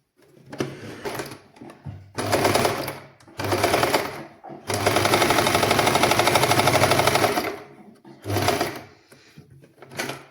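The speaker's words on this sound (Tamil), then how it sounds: "முதல் இந்த ஒரு பகுதியை நாங்கள் தைப்போம்" A sewing machine stitches a nightie in a basic tailoring class. The motor runs in loud, close bursts of a few seconds each, with one long run in the middle, separated by short pauses.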